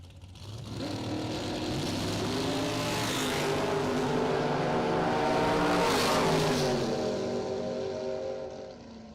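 Drag race cars, including a roadster, launching side by side down the strip at a Spring Stampede event, a loud rising engine roar that swells, holds for several seconds and then fades as they pull away.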